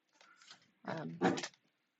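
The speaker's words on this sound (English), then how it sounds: "Excuse the dog trying to get in there." A dog tries to get into a room, making short whining, scratching and snuffling noises against a door, a few brief bursts close by with no talk.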